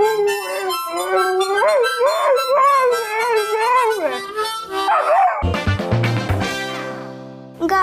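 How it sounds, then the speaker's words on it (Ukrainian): A dog howls in long, wavering tones that rise and fall, joined partway through by tonal instrumental music, fairly loud and close. "Гарно песик підспівує"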